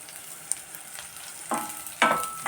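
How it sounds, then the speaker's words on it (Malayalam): Sesame seeds are tipped into a hot pan of sizzling green chilies and garlic for coriander chutney, giving a steady close frying hiss that bursts louder with two sharp crackling surges near the end. "ഇപ്പോൾ ഇതിലോട്ട് നമ്മുടെ എള്ള് 1 ടേബിൾ സ്പൂൺ മാറ്റി വെച്ചിട്ട് ഇടാം."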